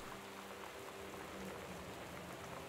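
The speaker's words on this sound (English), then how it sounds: "It's raining outside." Rain falls outside a house in the game Gone Home as a steady, dense hiss of drops with a soft, even texture and no voices over it.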